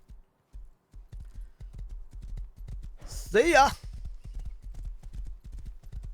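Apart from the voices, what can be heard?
horse hooves galloping in the video game Rust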